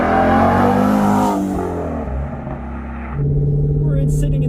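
Ford Mustang Shelby GT350 engine idling and revving up close, a steady loud rumble that swells and settles, heard from inside the car with talking over it.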